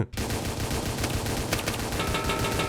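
Rapid, continuous gunfire from the Roblox game A Dusty Trip, loud and dense with no pause for almost three seconds, mixed with game noise.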